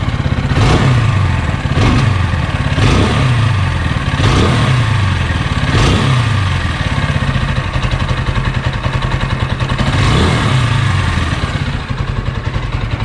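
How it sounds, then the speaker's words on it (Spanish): A Italika Vortex 250 motorcycle engine revs repeatedly in short bursts over a steady idle, with a deep, rumbling exhaust close by and no talking. "el escape se escucha menos ronco que la 200"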